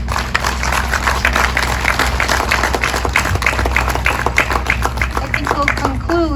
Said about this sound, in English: giving a round of applause for these folks